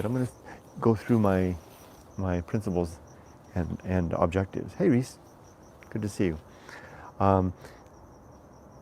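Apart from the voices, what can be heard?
crickets chirping on an evening outdoors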